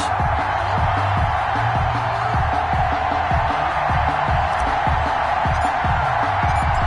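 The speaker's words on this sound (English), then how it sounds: "This crowd is ready as their guys get set to match up" A football stadium crowd at a Washington football team versus Atlanta Falcons game gives a dense, steady roar of cheering that carries evenly throughout, with a faint voice partly buried in the noise.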